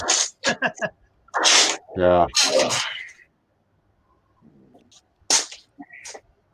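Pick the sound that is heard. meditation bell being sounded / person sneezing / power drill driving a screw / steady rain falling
person sneezing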